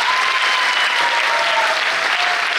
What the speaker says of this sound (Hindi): चलिए एक बार जोरदार तालियों के साथ वेलकम करते हैं